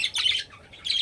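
Java sparrows, including white and albino birds, give sharp, close chirping calls in two quick bursts with a brief gap between them.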